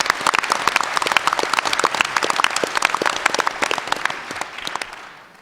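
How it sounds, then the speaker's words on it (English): An audience at an evening Chilliwack city councillors debate applauds the event sponsors: dense, steady clapping from many hands that fills the room, then thins and fades near the end. "Let's give them a round of applause for putting this together."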